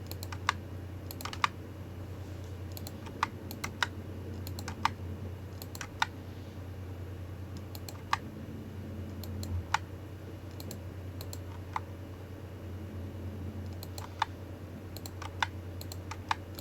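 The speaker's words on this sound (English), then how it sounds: "Just clicking on the key and pressing delete is what I'm doing" Computer keyboard keys are clicked and tapped in sparse, irregular bursts, with delete presses among them, over a low steady room hum; close and fairly quiet, with no talking.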